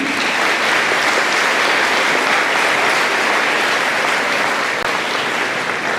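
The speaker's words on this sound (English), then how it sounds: "a round of applause for them" Steady, loud audience applause fills a high school graduation ceremony, a dense uninterrupted wash of many hands clapping at constant level throughout.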